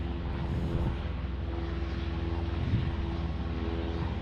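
Steady engine drone of an Epic Flight Academy training aircraft at Tucson airport, a continuous mid-level propeller hum with no talk over it.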